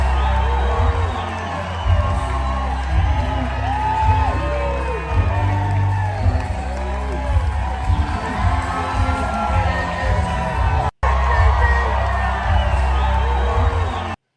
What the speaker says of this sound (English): look at this crowd for Vance